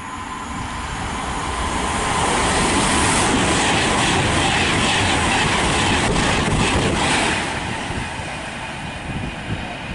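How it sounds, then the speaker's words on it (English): A Virgin Pendolino, class 390 electric train of nine coaches in new livery, passes through Nuneaton station on the West Coast Main Line with a steady roar. The roar builds, holds loud in the middle and then fades. "next train to pass through is a Virgin train service to Manchester Piccadilly from London Euston"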